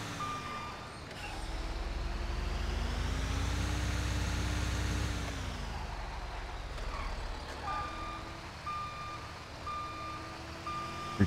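An aviation fuel truck reverses with a steady series of evenly spaced high beeps over its low rumbling diesel engine, loud and close, the engine swelling and easing as it moves.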